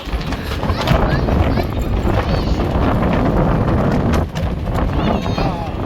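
Strong, steady wind roars and buffets the microphone on the deck of a cruise ship as a storm approaches, with a brief dip near the end, while a voice talks faintly beneath it.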